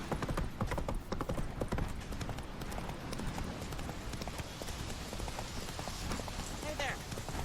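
Roach the horse gallops in The Witcher 3 with fast, steady clip-clop hoofbeats that continue throughout under a rushing background wash, and a faint whinny is heard near the end.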